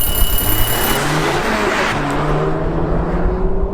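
A 2022 Volkswagen Golf R launches in a drag race and its engine bogs, a loud close roar of engine and road noise that holds without a clean climb in pitch.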